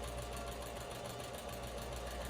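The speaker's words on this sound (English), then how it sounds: "I'll then pin them in place and sew with a straight stitch." Sewing machine running a straight stitch on a dress, a steady fast mechanical whir and rapid needle ticking, close and continuous with no pauses.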